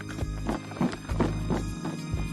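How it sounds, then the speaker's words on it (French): Hooves of Vercors horses clip-clop in a steady walking rhythm, close and fairly loud, on a mountain farm in the Vercors, with no voices over them. "Voilà les chevaux du Vercors de Baracan, donc forgés par le territoire du Vercors."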